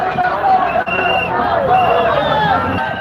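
A crowd of striking rideshare drivers at a protest in Los Angeles, loud dense babble of many voices with shouts close by.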